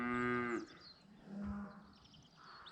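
Hereford cattle moo outdoors, one long, loud low call followed by a fainter, shorter second moo, with light background noise between them.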